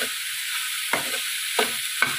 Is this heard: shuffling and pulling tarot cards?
no